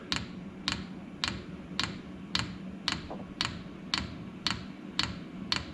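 A 5 kW diesel heater fuel pump ticks in a garage, a faint, sharp click repeating evenly about twice a second over low background rumble, with no talking.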